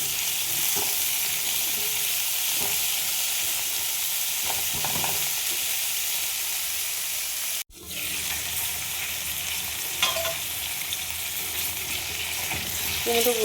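Small pumpkin pieces sizzle steadily in a kadai close by, with intermittent scraping stirs; the frying cuts out for a split second midway, then carries on at a similar level.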